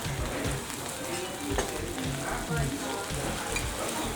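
Kobe beef sizzles in butter on a hot grill at a restaurant in Japan, with a dense, continuous frying crackle up close and faint voices in the background.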